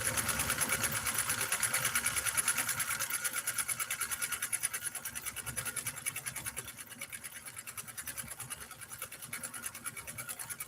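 A Nordic Husqvarna Automatic sewing machine stitches a decorative pattern, giving a fast, even mechanical whir and rapid needle chatter that runs continuously and gradually eases a little in level.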